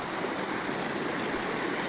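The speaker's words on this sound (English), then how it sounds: "This is a stream," A snowmelt stream rushes down a trail on Mount Charleston in early June, a loud, close, continuous broadband roar of flowing water with no voices.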